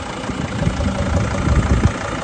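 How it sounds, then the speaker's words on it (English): A 2006 Dodge Sprinter 3500 diesel van with a tire service body idles nearby, a steady low rumbling chug with rough irregular pulses and no talk. "Engine sounds great."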